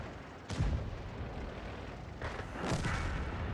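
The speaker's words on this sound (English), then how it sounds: "Oh yeah, artillery right there." Artillery in a video game fires two deep booming blasts, one early and one later, each rumbling out under a steady background roar.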